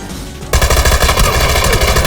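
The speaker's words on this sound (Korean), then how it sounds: "총쏠 때가 아닌데 쟤는 뭐 총을 쏘고 있어" Rapid, loud automatic gunfire rattles continuously in a video game, starting abruptly after a brief quieter moment and dominating the clip.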